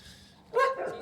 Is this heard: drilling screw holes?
no